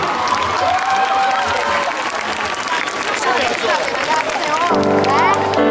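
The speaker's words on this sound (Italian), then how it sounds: "facciamo un applauso anche al maestro che c'è" An audience at a live concert applauds the maestro Renato Dometti, with steady clapping and crowd babble throughout, and musical tones entering near the end.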